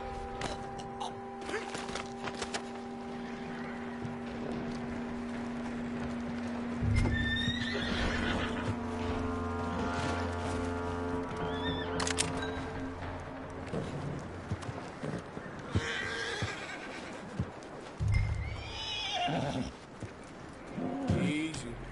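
A horse whinnies and snorts in the video game Red Dead Redemption 2 while hooves clop in a steady rhythm, set against a continuous ambient hum and occasional louder thuds.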